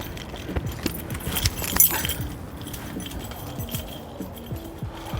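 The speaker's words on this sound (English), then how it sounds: "So now we're going to jingle the keys and see if we can find Tofu." A bunch of keys jingles and clinks continuously with a brighter shake in the middle, close up over a steady background rumble.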